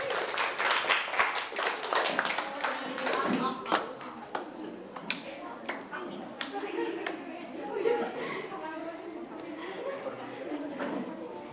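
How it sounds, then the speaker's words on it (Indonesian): Scattered hand claps ring out in a classroom after a group presentation, sparse and uneven, mixed with murmuring voices and chatter. "tepuk tangan untuk Little Child Production."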